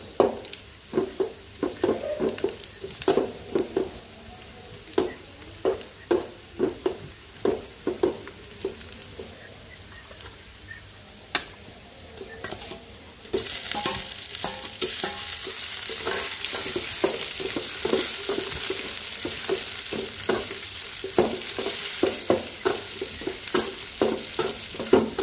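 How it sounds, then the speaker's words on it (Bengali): Onion frying in oil in a home kitchen pan, a steady sizzle that turns louder and hissier partway through, broken by repeated scraping and knocking stir strokes. No one talks. "তো পেঁয়াজ আর তেল দিলাম, পেঁয়াজটা ভাজবো।"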